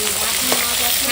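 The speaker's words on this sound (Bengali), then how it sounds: "এই মাছগুলো ভাজা হয়ে গেছে" Fish sizzling and frying in hot oil in a pan, a steady close crackle throughout the short stretch with no voices.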